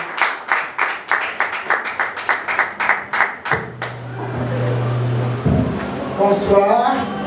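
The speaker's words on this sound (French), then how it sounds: "Sous vos applaudissements," Rhythmic unison clapping from a crowd at a political party rally, steady beats for about three seconds before giving way to cheering voices and a low hum.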